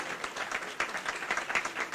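An audience at the opening ceremony of a Gwo ka festival applauds for Ernest Pépin, a soft, steady patter of many hands clapping at a distance with no voices over it.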